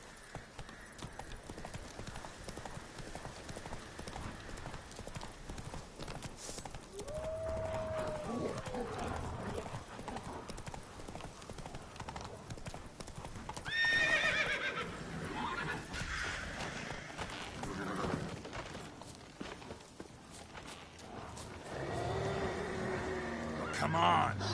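Roach, a horse in The Witcher 3, gallops with fast, loud hoofbeats and lets out a clear neigh midway, with more whinnying later, all over continuous game ambience and brief speech.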